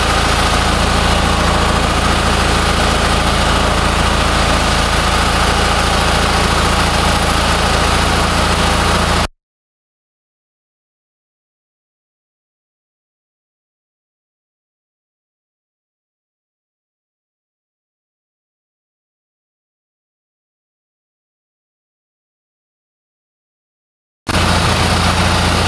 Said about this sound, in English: The engine was bogging down.